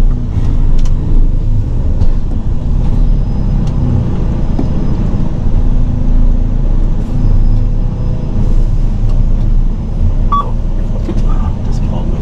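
A car drives along a country road, its low engine rumble and tyre noise steady and close throughout, with faint occasional clicks above it.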